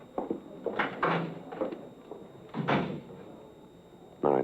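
A side door is opened and closed indoors, a few wooden knocks and a latch clatter, moderately close with a muffled thump at the end and no talk.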